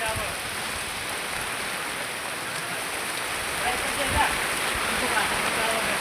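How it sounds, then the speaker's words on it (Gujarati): Heavy rain pours steadily during a windstorm in Visnagar, a dense broadband hiss of drops hammering surfaces, with a faint low rumble near the end and no voices. "વાવાઝોડો વરસાદ ધૂમ મચાવી રહ્યો છે."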